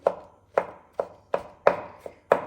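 Aubergine flesh chopped coarsely with a knife on a board, about six crisp, evenly spaced thuds, close and clear with no talking.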